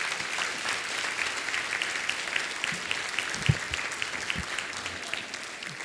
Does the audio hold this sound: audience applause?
yes